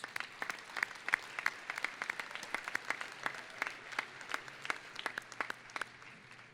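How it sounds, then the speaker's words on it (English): A modest crowd at a university winter commencement claps for several seconds, with individual hand claps standing out in a fairly soft, scattered round of applause. "Let's give you a round of applause."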